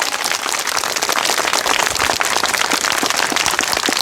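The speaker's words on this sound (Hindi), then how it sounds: "तालियों की गड़गड़ाहट।" Steady, dense applause from a crowd at a women-led relay hunger-strike protest, loud and continuous with scattered sharper claps, no speech over it.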